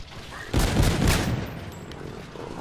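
Several heavy explosions burst out close and loud in a PS4 video game, a quick cluster of booming blasts over about half a second that fades into a lingering rumble.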